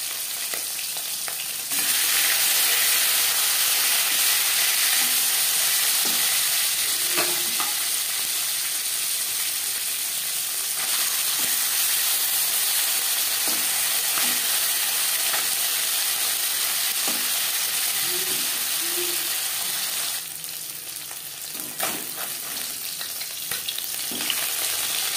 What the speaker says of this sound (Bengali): 4 চামচ সরষের তেল গরম করে নেওয়ার পর দিয়ে দেবো ম্যারিনেট করে রাখা মাছ